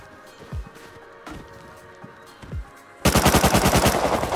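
Gunfire in the survival video game Rust: a few scattered single shots at first, then a loud rapid automatic burst that dominates the final second or so.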